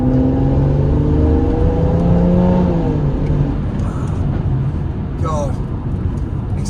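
A BMW M140i accelerates hard, its engine note climbing in steady rising tones through the gears, close and loud, with a voice talking over it.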